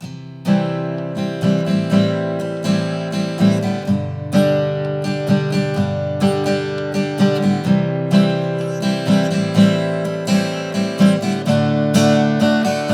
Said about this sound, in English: So all up, that little verse section is going to sound like this.